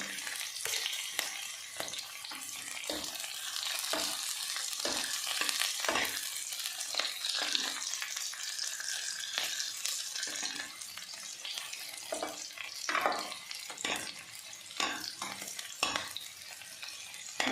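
Vegetables with ginger stir-frying in a pan for restaurant-style palak paneer, a steady close sizzle broken by repeated scraping and stirring strokes, with no talk.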